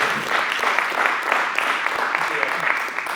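An audience claps in a steady, continuous round of applause, fairly loud and dense throughout, with no talk over it.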